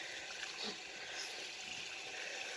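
Water splashes and pours steadily over a pig, a continuous broadband gushing hiss at low volume with no clear breaks.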